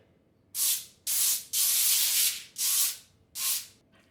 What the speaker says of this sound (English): We're going to spray some cooking oil onto the tin foil